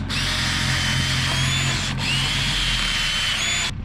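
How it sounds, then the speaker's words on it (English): A power drill bores 3/16-inch holes through a pipe for natural pool plumbing, a loud continuous whine that briefly stops and restarts, steady and close. "right now I'm drilling holes in this pipe"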